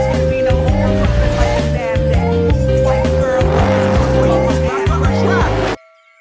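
A Lightning McQueen toy race car sound effect plays loud and close: a revving race engine with squealing tires over a bouncy backing tune, cutting off abruptly near the end.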